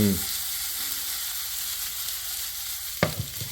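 New potatoes with pancetta and black pepper sizzle and fry steadily in a pan, a constant crackling hiss throughout, then a sudden loud clatter and stirring scrape near the end.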